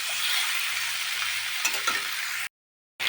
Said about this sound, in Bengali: আলুটা দিয়ে মাখিয়ে নেব।